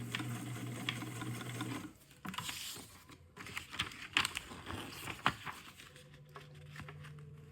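A sewing machine stitches in short mechanical bursts and taps, first running steadily, then a pause followed by scattered clicks and rattles as a back stitch is worked along a seam, fairly quiet overall.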